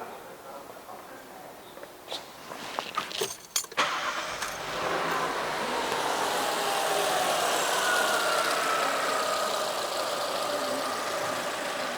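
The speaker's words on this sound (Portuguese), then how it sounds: "Deixa eu dar uma partida no carro." A car engine cranks and catches in a series of sharp bursts near the start, then settles into a steady, continuous idle close by during a lambda sensor test on a running car.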